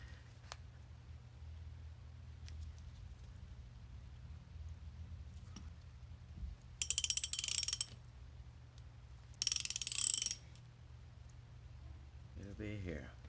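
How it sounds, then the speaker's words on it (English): A torque wrench tightens differential cover bolts after welding, giving two short bursts of rapid ratcheting clicks against a low steady hum, with faint handling knocks between. "I'm gonna torque a little bit here."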